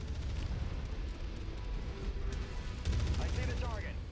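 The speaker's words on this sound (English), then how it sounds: "Ammo explosion detected." An ammo explosion in the Shadow of Kerensky DLC of a mech combat game sounds as a muffled burst of rumbling blasts and gunfire, swelling near the end beneath radio-style voice chatter.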